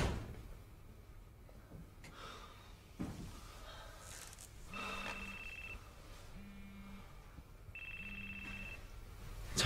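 A telephone ringing in repeated electronic bursts of about a second each, medium distance, over room noise with a door-like thud early on.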